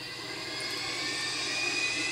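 A plane's jet engine in GTA 5 roars steadily at an airport, a loud, even whine and rush that swells slightly toward the end, with no voices over it.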